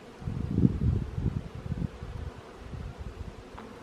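Honey bees swarm over a beehive frame during a hive inspection for making splits, giving a low rustling hum with soft irregular pulses at moderate, fairly close level.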